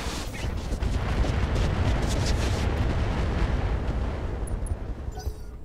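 Artillery fire and explosions in the mech combat game Roguetech, a dense, continuous roar of booming blasts and rumbling impacts with heavy low-end weight, loud and sustained throughout.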